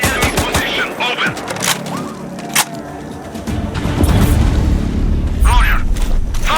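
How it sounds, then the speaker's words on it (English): Gunfire in the shooter game Sniper Ghost Warrior 2: rapid bursts of loud shots and booming impacts, close and dense at first, giving way to a continuous rumbling background with voices over it. "Shots fired! Shots!"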